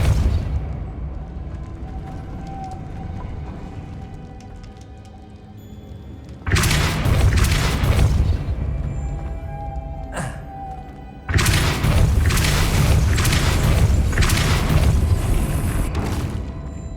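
Depulso spell cast in Hogwarts Legacy, two loud booming blasts with sustained rumbling roar that follow a quieter ambient game stretch, each hitting suddenly and lingering for several seconds.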